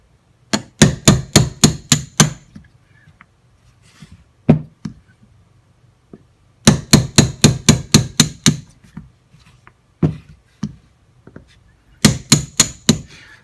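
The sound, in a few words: driving out frame pins of a Kel-Tec PF-9 pistol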